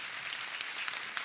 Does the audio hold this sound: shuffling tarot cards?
no